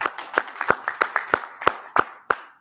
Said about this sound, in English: Let's send him to his seat by clapping.